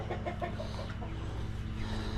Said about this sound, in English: Rooster, he's last year's rooster.